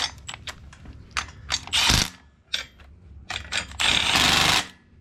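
A ratchet tightens motor mount bolts while an L67 engine is fitted to a tubular subframe, quick clicking bursts broken by two longer rasping runs, close and loud in a workshop.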